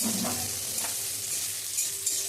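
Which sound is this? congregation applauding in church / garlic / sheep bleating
garlic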